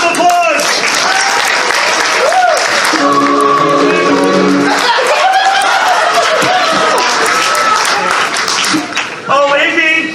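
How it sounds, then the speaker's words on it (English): Audience applauding at an improv comedy show, dense steady clapping with cheers and whoops running loud throughout, some voices calling out over it near the end. "give them a round of applause!"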